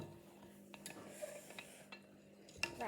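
Fizz bomb ingredients are stirred in a bowl, making faint scraping and light clinks of a utensil against the bowl, with a few sharper taps over a low steady background hum.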